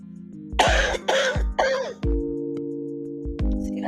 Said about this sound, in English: Every time I lay down, I cough.